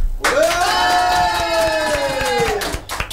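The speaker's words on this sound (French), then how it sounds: "Un tonnerre d'applaudissements s'il vous plaît dans le studio" A loud television studio audience breaks into sustained applause and cheering, with a tonal sound ringing over the crowd noise for about three seconds.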